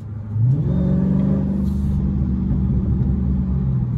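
A Dodge Charger 392 V8 drives along with a steady, heavy low rumble that rises briefly at the start as the revs climb, loud and continuous throughout with no voices over it.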